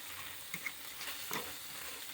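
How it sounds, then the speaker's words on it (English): A fork stirs flour into melted butter in a pan for hamburger gravy, giving soft scraping and light sizzling with a few brief clicks of metal against the pan, faint and steady. "Just mix it in with the fork and the butter."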